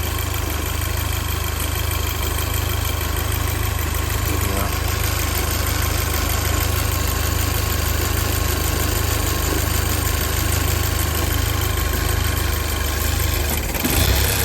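A 2012 VW Golf R with an intermittent stalling fault idles close by with a continuous, even low rumble and mechanical hum that holds steady throughout, with no talking.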